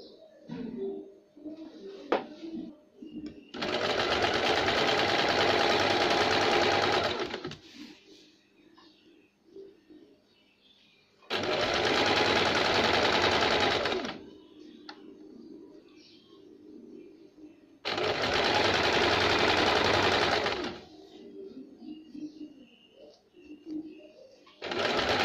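A sewing machine stitches a folded pant hem in three long steady whirring runs, loud and close, separated by quieter pauses with faint handling and distant chirps.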